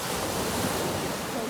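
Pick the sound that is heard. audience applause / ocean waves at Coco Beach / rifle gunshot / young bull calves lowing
ocean waves at Coco Beach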